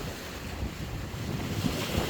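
Sea waves and wind at the shore during a rising swell make a steady, broad roar with gusty wind rumble, continuous and fairly loud throughout.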